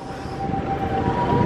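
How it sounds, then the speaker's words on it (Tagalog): An ambulance siren wails steadily at mid distance, a sustained tonal whine over a dense bed of street and crowd noise near a shopping mall at night, slightly swelling toward the end. "may ambulansya."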